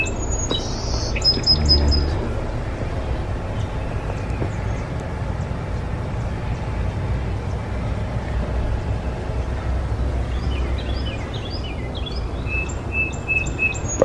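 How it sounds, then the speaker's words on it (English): Birds chirping and singing outdoors among overgrown bamboo in summer, several high twittering calls near the start and again toward the end over a steady low rumble of distant traffic. "Birds are going crazy."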